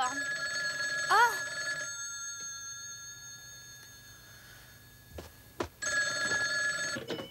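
A telephone bell rings in two trilling bursts separated by a hushed pause. A voice briefly speaks over the first ring, and a couple of small knocks come before the second.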